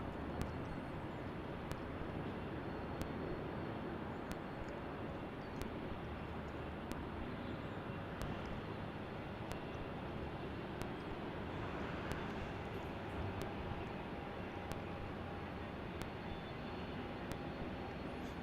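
An Airbus A321 lands at Salt Lake City Airport, heard as a distant, steady broadband engine roar that stays even and fairly faint for the whole stretch, with faint regular ticking clicks.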